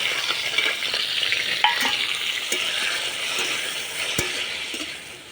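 Ivy gourd coated in salt and turmeric frying in hot oil, a steady close sizzle with scattered clinks and scrapes of a spatula against the pan, no voices.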